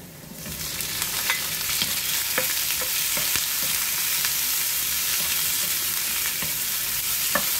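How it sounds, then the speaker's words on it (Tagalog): Shrimp frying in a pan beside browning aromatics, a loud, steady close sizzle broken by clinks of a stirring utensil, with no voices. "i-fry muna natin yung hipon"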